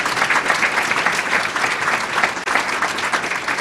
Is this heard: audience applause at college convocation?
yes